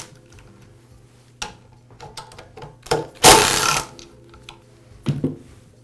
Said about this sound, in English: I'll begin by removing the motor end cover. It's held in place with a couple of screws.